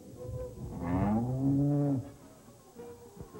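A restless cow in a corral gives one long, deep moo lasting about a second, rising and holding before cutting off, followed by faint background noise.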